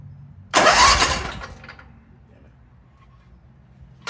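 A Briggs and Stratton small engine is pulled over once after a fuel pump and fuel line replacement, giving a loud cranking burst that fades out without catching, followed by quiet.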